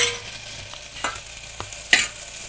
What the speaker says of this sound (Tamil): தக்காளி போட்டதுக்கப்புறம் நல்லா கரண்டி வச்சு நல்லா கிண்டி விட்டுக்கோங்க